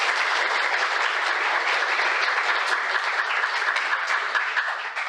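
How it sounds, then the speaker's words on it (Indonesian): A large audience applauds at a family show, a steady, dense wash of clapping that holds evenly for about five seconds before easing off at the very end. "Tepuk tangan dulu dong."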